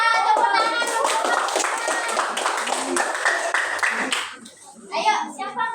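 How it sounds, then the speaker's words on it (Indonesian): A group claps steadily for several seconds while children's voices chatter over it, the clapping fading out near the end. "tepuk tangan dulu"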